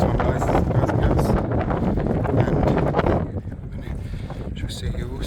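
Strong wind buffets the microphone of a cyclist riding near Rye Harbour in heavy, roaring gusts that ease off slightly toward the end.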